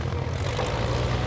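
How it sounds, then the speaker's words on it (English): A propeller-driven aerobatic airplane, the Team Oracle aircraft flown by Sean Tucker, readies for takeoff at an Air National Guard airshow in Rhode Island, its engine drone steady and loud throughout without talk. "We have our final act preparing for takeoff here."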